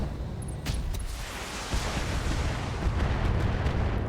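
Turrets blowing apart in a BattleTech mech combat game, a dense, continuous rumbling barrage of explosions with a few sharper bursts, loud and sustained throughout with no talking.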